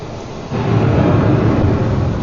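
A low, rolling rumble like thunder swells in after a brief quieter moment and continues steadily, loud and enveloping.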